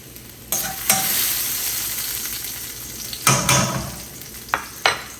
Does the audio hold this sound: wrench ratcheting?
no